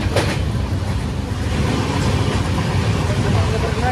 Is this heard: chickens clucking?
no